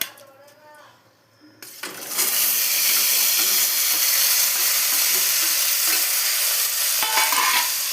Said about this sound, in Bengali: সবজিগুলি দিয়ে দিলাম, একটু ভেজে নিচ্ছি